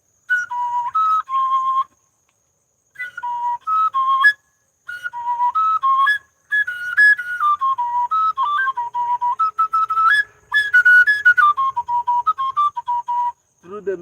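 A flute plays a lively melodic line of short, rapidly changing notes in several phrases separated by pauses, close and clear, with no talking, during a morning fellowship gathering.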